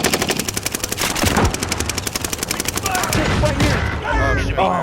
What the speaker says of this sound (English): Oh, shotgun.